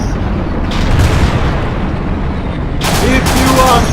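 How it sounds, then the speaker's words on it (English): Cannon and gunfire aimed at an Abrams tank in the Battlefield Iraq video game, loud booms and rattling shots under a constant roar of battle noise, with a heavy blast toward the end. "Just one more round to fire at this putrid"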